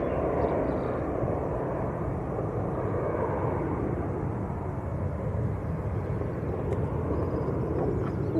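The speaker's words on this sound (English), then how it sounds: "I think that's the BA that's just gone over" A British Airways Airbus A350-1000 airliner passes overhead near Manchester Airport, a steady, full low roar of jet engines holding at constant loudness without a break.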